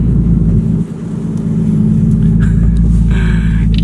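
Loud aftermarket exhaust on a car held in neutral, a deep rumbling idle that swells into a revving roar, continuous and close up with no talking.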